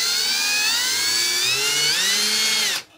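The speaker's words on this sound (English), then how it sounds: "you can pre-drill your holes if you want" A power drill pre-drills holes in cheap pine wood while building a rotating stand for turning tumbler cups. A loud, steady whine rises gradually in pitch for nearly three seconds, then cuts off abruptly.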